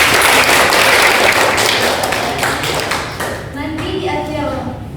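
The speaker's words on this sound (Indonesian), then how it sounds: "Tepuk tangan dong buat mereka." A classroom of students claps during a micro-teaching lesson, a dense burst of applause that thins out after a few seconds as children's voices and chatter take over.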